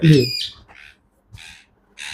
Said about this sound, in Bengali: ময়না